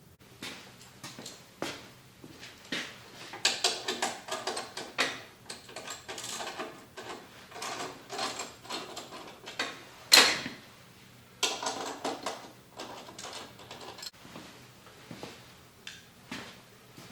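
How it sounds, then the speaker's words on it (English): A chainsaw is worked free of a chainsaw mill, giving scattered metallic clanks, creaks and handling knocks at close range, irregular and fairly quiet, with one sharp bang partway through. "Let's get started and get the saw out of the mill."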